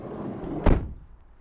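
Side loading door of a 2015 Mercedes-Benz Vito 111 CDi panel van with a ply-lined load area, shut once in a single loud, close thud over a low background rumble, then fading out.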